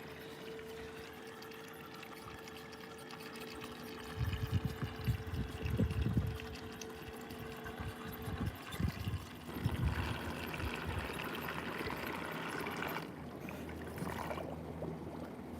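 An AIPER Scuba S1 cordless robotic pool cleaner works underwater as it starts climbing the pool wall, giving a steady low hum with splashy, gurgling water bursts midway and a continuous churning wash, fairly quiet overall.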